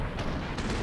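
Gunfire in the video game Drake of the 99 Dragons, a brief burst of shots with a sharp attack at the start and a second hit near the end, loud and close, with no talking over it.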